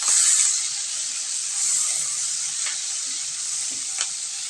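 Chopped onion and tomato fry in a pan with a loud, continuous hissing sizzle, broken by a few soft clicks and scrapes of stirring.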